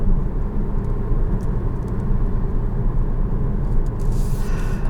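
A 2020 Kia Stinger GT-Line with a smaller engine than the V6 and smaller wheels cruises along, its steady engine and road rumble loud and constant from inside the cabin.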